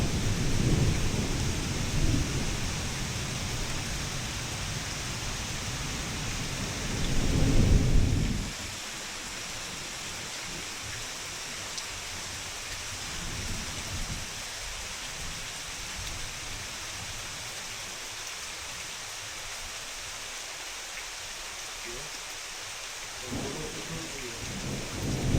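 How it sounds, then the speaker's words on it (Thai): A heavy thunderstorm pours rain in the forest, with a steady hiss of downpour throughout and deep rumbles of thunder rolling near the start, around eight seconds in, and again at the end. "เสียงฟ้าห้องสนั่นเลยนะอยู่เทิงนี่โอ้ ฝนจัดหนักอีกแล้ว"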